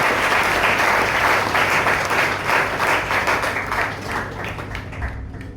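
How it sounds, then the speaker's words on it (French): A café audience claps loudly and steadily for a slam poet at a French slam poetry night, full applause that tapers off only slightly at the close. "On applaudit très très fort pour lui."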